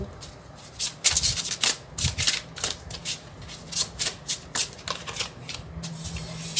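Tarot cards shuffled in quick bursts of crisp riffling and rubbing, close and fairly loud, with short pauses between runs and no talking.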